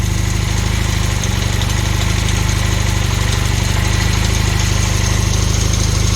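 A Honda Hondamatic 400 motorcycle engine, unrun for over twenty years and needing valve adjustment, idles loudly and steadily close by with a rough, uneven popping beat throughout.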